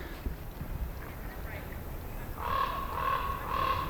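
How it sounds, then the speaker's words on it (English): A kookaburra's raucous, laughing call rises in repeated bursts near the end, over an outdoor background in Australia with voices talking. "we have whacked out birds in Australia, like the kookaburra. That's the weirdest noise ever."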